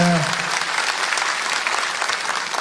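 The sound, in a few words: crowd applauding to welcome the Chief Minister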